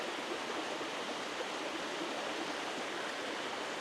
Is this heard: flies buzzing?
no